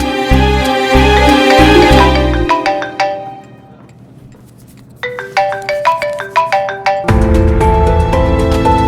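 Mobile phone ringing with a melodic electronic ringtone, loud and close, playing in repeated bursts with a brief quiet gap in the middle before the tune resumes.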